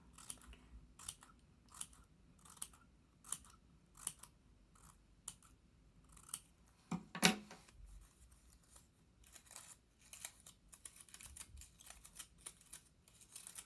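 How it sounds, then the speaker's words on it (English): Scissor tips snipping close-set fringe cuts into paper, a quiet, regular series of crisp little clicks close by, with a few louder snaps along the way. "using the tip of my scissors, I made cuts very close together."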